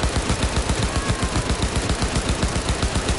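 An automatic weapon fires a fast, even stream of loud, close shots in Cyberpunk 2077, unbroken and with no talk.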